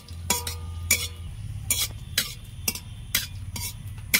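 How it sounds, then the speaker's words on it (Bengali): Five or six dry red chillies frying in oil in a pan, with a spatula scraping the pan in regular strokes over a low steady background hum; no one talks. "শুকনো লঙ্কাগুলো ভাজা হয়ে গেছে"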